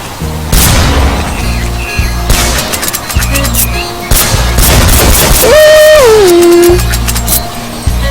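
Repeated gunfire bursts from a shotgun in a zombie survival shooter game, loud and close, mixed with game music and effects, including a rising and falling tonal sweep near the end.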